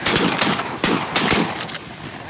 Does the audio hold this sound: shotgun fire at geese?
yes